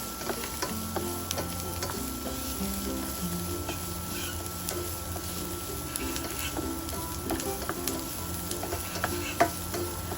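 Onions sautéing in a pan give off a steady, soft sizzle with occasional stirring clatter, heard close and alone without any talk.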